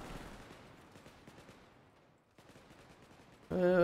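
Rapid SMG fire in the sci-fi shooter Wormhole Wars, a dense stream of fast shots trailing off into quieter background before a louder burst returns at the end.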